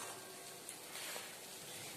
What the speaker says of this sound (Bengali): চলুন গাইস, বড়াগুলো উল্টে দিই।